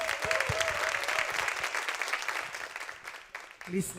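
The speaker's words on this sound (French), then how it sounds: "un applaudissement pour Mr. Chris" Audience applause for a guest on a television program, a fairly steady wash of clapping that tapers off near the end, with a voice and a brief tone at the close.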